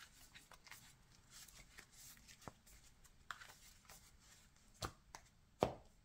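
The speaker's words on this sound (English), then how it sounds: "You shuffle your deck." Cardfight!! Vanguard card deck being shuffled by hand, a quiet soft riffling rustle with a few sharp card snaps and taps near the end, close by with no talk.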